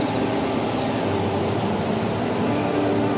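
A steady, rumbling commuter train from the Sotobo Line in Japan passes close by at night with a continuous droning hum, and no voices can be heard.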